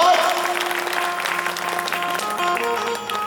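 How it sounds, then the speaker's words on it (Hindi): An audience at a Shiv Mahapuran religious discourse in Dhuma, Seoni, Madhya Pradesh breaks into loud, sustained applause that carries on steadily, with devotional music and a voice heard alongside. "शिव के लिए जोरदार ताली"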